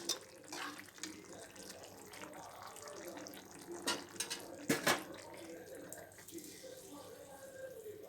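Water runs steadily from a tap into a metal pressure cooker, a continuous splashing rush with a few clinks of cookware.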